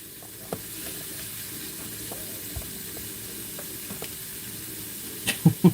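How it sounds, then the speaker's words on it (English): Onions and ham sauté in a frying pan with a steady close sizzle, dotted with a few faint clicks and then louder clanks of utensils at the end. "I am sauteing up my onions. I'm adding my ham to the pan. We're going to fry that up"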